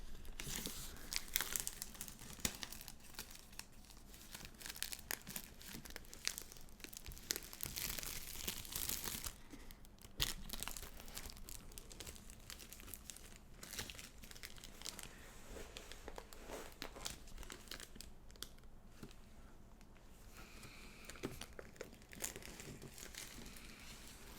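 A knife cuts through tough plastic wrap on a Battle for Zendikar gift box. The sound is a quiet, close, continuous run of crinkling and tearing with small irregular crackles.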